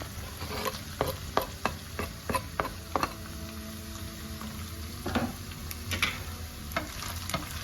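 Minced meat and onions frying in oil in a pan, a low sizzle beneath sharp, irregular clicks and scrapes of a utensil stirring, close by with no speech.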